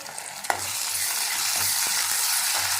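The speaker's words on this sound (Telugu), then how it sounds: "ఇప్పుడు ఇది పచ్చివాసన పోయేంత వరకు వేయించుకున్నాము" Ginger garlic paste fries with browned onions in a pan for keema, making a steady close sizzle with a few sharp stirring scrapes of a spoon.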